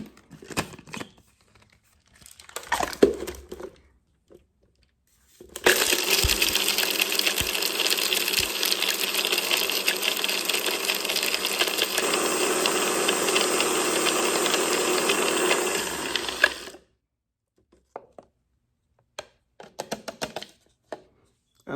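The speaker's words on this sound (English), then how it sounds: "if you have this little blender like the NutriBullet" A NutriBullet blender with a milling attachment grinds raw whole spices, a loud rattling whir running about eleven seconds before cutting off, framed by quieter handling clatter.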